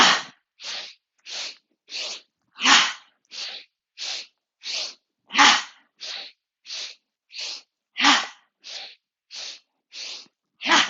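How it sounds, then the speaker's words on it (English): Breath of joy yoga breathing: sharp nasal breaths in a steady pattern of three quick inhales then a stronger release, repeated over several rounds, close and loud with clear silent gaps between each breath. "Let's do 3 inhales, 1 long exhale."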